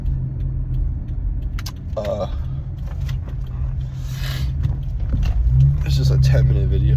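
A car rumbles steadily from inside the cabin on a short drive home, with a low engine drone, some faint clatter, and a voice speaking briefly near the end.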